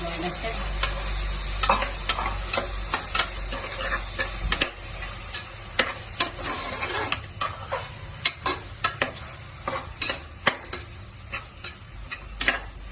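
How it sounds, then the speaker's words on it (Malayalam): Ginger garlic paste is stirred in a frying pan for beef white curry, sizzling steadily up close. A spatula clicks and scrapes against the pan in a quick, irregular rhythm throughout. "ഇഞ്ചി വെളുത്തുള്ളി പേസ്റ്റാണ് ഇടുന്നത്"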